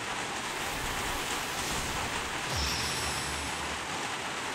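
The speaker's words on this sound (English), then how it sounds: "If you are hearing the rain, I'm really sorry." Steady rain keeps up a dense, even hiss picked up by a home microphone, with a brief low thump partway through and no talking.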